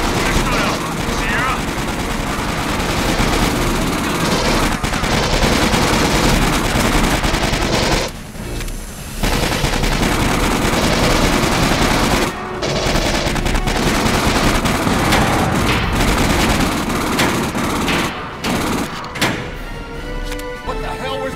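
Automatic gunfire from a pulse rifle in the Aliens: Colonial Marines shooter, loud and continuous with brief pauses between bursts, mixed with game music and effects while a voice speaks over it.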